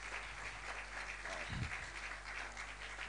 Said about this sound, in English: with a round of applause, let's welcome our MC for the day